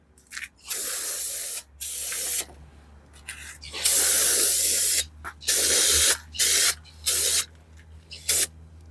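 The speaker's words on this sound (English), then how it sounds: "Just spray it up a little bit." Repeated bursts of hissing aerosol lubricant spray on front brake parts of a Nissan Pathfinder, short and long sprays separated by brief pauses, close and loud.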